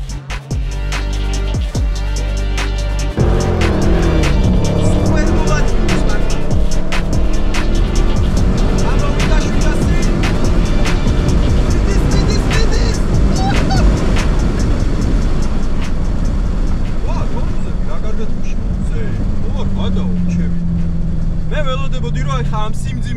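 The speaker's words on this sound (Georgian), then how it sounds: "ეხლა ვცადოთ launch control-ს თუ გავაქტიურებთ" A Dodge Challenger SRT with about 800 horsepower launches hard using launch control, its engine holding a revving note before a loud, dense roar builds as it accelerates away, heard from inside with continuous road and wind noise.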